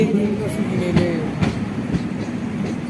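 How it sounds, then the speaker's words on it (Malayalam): A train departing a station rumbles steadily nearby with rhythmic clacks and faint wheel squeals as it rolls along, a voice briefly audible beneath. "ഞങ്ങളെ ഇറക്കി വിട്ടിട്ട് ട്രെയിൻ ഇതോണ്ട് പോകുന്നു"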